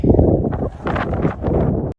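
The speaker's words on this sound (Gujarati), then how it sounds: "બહુ સુસવાના કરતો પવન મારે છે" Loud, steady wind rushes and buffets close against the microphone for a couple of seconds, a rough, blustery roar with no voices.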